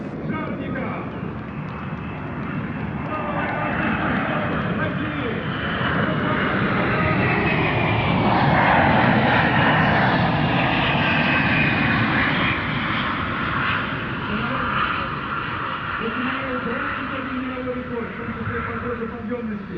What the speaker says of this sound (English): The AN-124 Ruslan, NATO codename Condor, is another world-beating Antonov design.